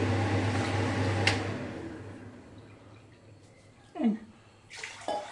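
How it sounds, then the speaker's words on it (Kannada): Water pours into a cooking pot for making rava kurudagi, a steady splashing rush at first that fades out, followed by a couple of short knocks and clatters of kitchenware. "ಹಾಂ 2 ಗ್ಲಾಸ್ ನೀರು ಹಾಕ್ತೀನಿ ಇದಕ್ಕೆ."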